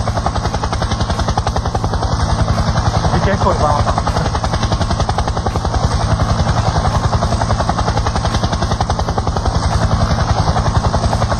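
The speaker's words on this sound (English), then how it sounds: "is going to fly the helicopter inside the audience" A small helicopter flies indoors over an audience in a hotel room in Scottsdale, Arizona, its rotor chopping in a loud, steady, rapid buzz throughout while a voice speaks briefly.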